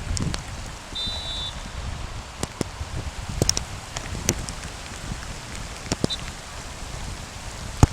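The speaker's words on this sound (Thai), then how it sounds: "ตกแรงซะด้วยนะฝนตอนนี้" Heavy rain falling steadily outdoors at a friendly football match, a soft continuous hiss with scattered sharp drop taps and a few brief clicks, no talking.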